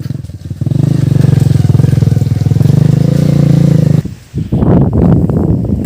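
Motorcycles ride along a farm road in the Philippines, giving a loud, close, steady engine drone for about four seconds before a brief drop and a rougher, revving burst.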